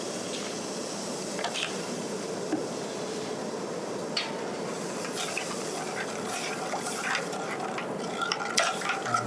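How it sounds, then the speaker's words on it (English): Cream for a lobster veloute simmers in a pan with a soft, steady bubbling and faint sizzle, occasional light clinks and stirring sounds on top, close and quiet with no talk. "I'm just going to let this simmer."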